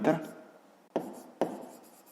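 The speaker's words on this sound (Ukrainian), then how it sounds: "Ну і записуємо, що це у нас швидкість." A pen writes on paper while a 5th-grade maths exercise about a train's speed is worked out: three short scratchy strokes, close and quiet, with gaps between them.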